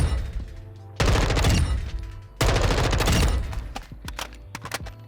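An M4A1 assault rifle fires in the Modern Warfare 2 firing range in two sustained, loud full-auto bursts, followed by a few shorter trailing shots and clanks, with no voices over it.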